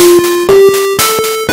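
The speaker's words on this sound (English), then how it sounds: "which will allow us to use that chip to actually produce some notes that sound like this." Short chiptune notes from the NES audio chip synthesizer, driven by code written in Racket, step through a few pitches in quick succession, loud and bright with buzzy overtones and clicky attacks.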